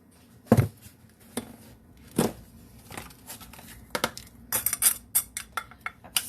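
Sugar scooped with a measuring cup from a slightly damp grocery bag, giving scattered scrapes, rustles and light clinks at close range, loose and irregular, with no talk.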